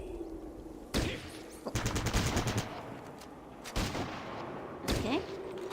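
Gunfire in the video game Fallout Tactics, separate bursts of shots in rapid strings, spaced a second or so apart over quieter background, moderately loud, with a brief rattling volley in the middle.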